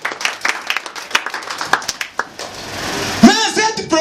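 Church congregation clapping in a quick, uneven rhythm of sharp hand claps, fairly close, with voices rising toward the end as the claps thin out.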